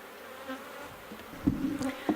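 Angry honey bees buzzing around a small beehive, a faint steady drone with several closer bees zipping past in short louder bursts, no talking.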